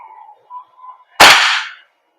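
A WE AK74 gas blowback airsoft rifle fires a single loud, sharp shot with a brief hissing tail, following a few faint murmurs of talk.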